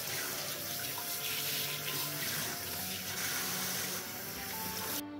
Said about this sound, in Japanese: 野菜はすべて洗っておきます。